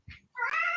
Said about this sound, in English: Damn cats.